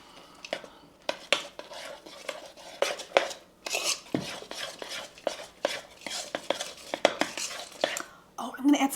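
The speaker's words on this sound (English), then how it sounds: "Let's stir it up" Vegan brownie batter with chocolate chips being stirred in a bowl, giving a run of close, irregular scraping and clinking strokes with a faint whisper-like voice near the end.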